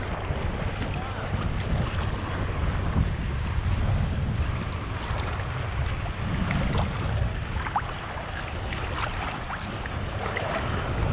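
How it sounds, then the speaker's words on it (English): Strong wind roars steadily against the microphone on a breezy beach at a Holiday Inn resort on North Shore, Grand Cayman, a loud continuous rumble with faint surf beneath and no clear talk. "A very breezy day today at the Holiday Inn Resort here on North Shore"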